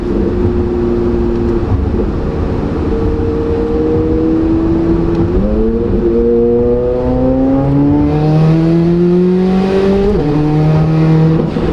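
A twin-turbo Corvette C8 Z06 engine pulls hard and loud from inside the car, its pitch climbing steadily through the revs with brief dips at gear changes and a rising turbo whine, no voices over it.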